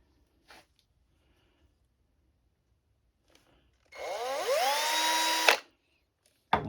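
A power drill boring a hole in a finished wooden piece, a single loud burst of motor whine that rises in pitch as it spins up, holds for about a second and a half, then cuts off amid quiet handling noises.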